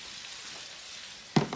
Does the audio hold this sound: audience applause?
no